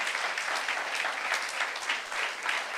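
A church congregation at a youth service claps together, steady dense applause that is moderately faint and even, with no voices rising above it.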